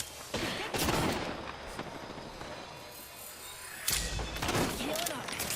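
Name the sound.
gunfire in a sci-fi shooter video game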